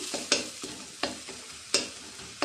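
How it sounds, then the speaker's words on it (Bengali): Spices sauté in a pan with very little oil, a soft close sizzle punctuated by several distinct spatula stirs and scrapes in an uneven rhythm. "এটাকে আমি মানে 2 মিনিট মতন জাস্ট কষিয়ে নেবো, যাতে সামান্য একটু গন্ধটা বেরিয়ে যায়"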